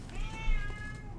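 A pet cat, a female, meows in one drawn-out rising and falling call close by, heard over a low background rumble.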